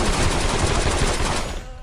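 Twin pistols fire in the shooter game You Are Empty, a loud, rapid, unbroken burst of shots that lasts nearly two seconds and then fades away quickly.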